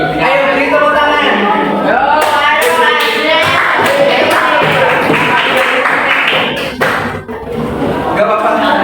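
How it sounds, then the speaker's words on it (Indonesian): Schoolchildren in a classroom clap for a classmate called to the front, with a burst of scattered clapping mixed into loud, lively chatter and voices. "Ayo beri tepuk tangan."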